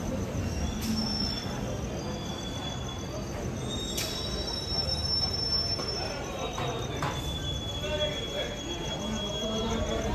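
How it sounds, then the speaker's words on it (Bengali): A train pulls into a railway station with thin, high wheel squeals over a low rumble, crickets chirping and faint voices in the background. "ওই যে ট্রেনটা চলে এসছে, এবার ওরা উঠে যাবে।"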